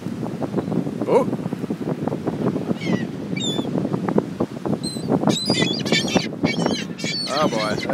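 Seagulls gathered at a birthday cake outdoors give sharp, repeated high calls that grow busier toward the end, heard over wind buffeting the microphone and ongoing talk.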